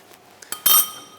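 A few sharp, bright clinks of a utensil against a bowl while chicken dish ingredients are mixed together, starting soft and ending with one louder ringing knock, with no speech.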